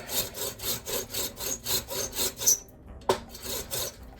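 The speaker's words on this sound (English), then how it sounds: "get this little nub off" Bow saw cutting a small wooden nub off a cart handle, a quick run of rhythmic rasping strokes close up that stops abruptly, followed by a knock and a few more strokes.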